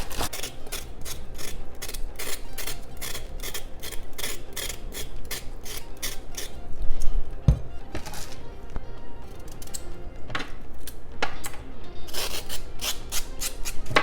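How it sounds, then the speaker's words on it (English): A knife chops washed carrot and onion on a board for a stuffed chicken dish, giving a steady run of close, crisp cutting strokes in quick rhythm, with one louder knock midway and no talking. "My carrot and my onion is washed. I'm gonna go ahead and cut them up."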